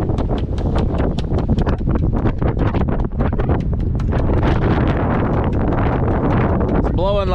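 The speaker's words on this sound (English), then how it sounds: "It's blowing like 25 right now." Loud, steady wind roars and buffets across the microphone with constant gusty rushing, a few faint voice-like tones near the end; a gale at about 25 knots on an anchored Nor'Sea 27 sailboat.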